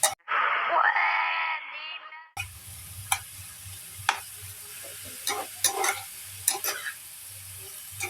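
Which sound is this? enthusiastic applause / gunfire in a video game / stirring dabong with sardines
stirring dabong with sardines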